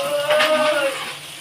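Onions sizzling and frying in a pan for chicken biryani, a steady close crackle with a faint tonal hum underneath, no talk.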